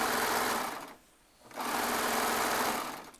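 A Baby Lock Triumph serger stitches a quilt top, running in two loud, steady high-speed bursts separated by a short pause.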